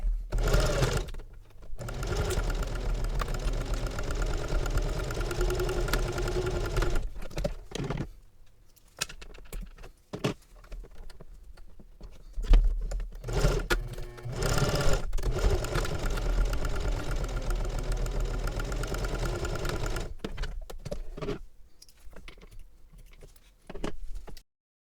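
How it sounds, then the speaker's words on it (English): A domestic sewing machine stitches a quarter-inch seam on a fabric travel belt, running in several steady whirring bursts separated by short pauses, with light mechanical clicks between runs. "So now I want to sew using a 1/4 inch seam allowance."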